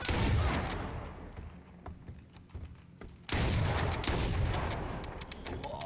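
Bursts of gunfire in the battle royale game H1Z1, loud rapid shots at the start and again after a quieter stretch of scattered clicks and single shots, with voices faintly mixed in.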